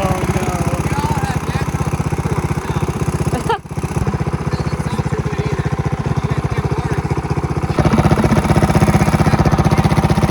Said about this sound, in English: Oh, it's not supposed to idle like that.